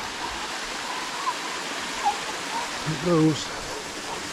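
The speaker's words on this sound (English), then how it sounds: "Looks like there's a bit of a waterfall there." Small waterfall in bushland spilling into a stream, a steady soft broadband rush of flowing water running throughout, with someone briefly speaking near the end.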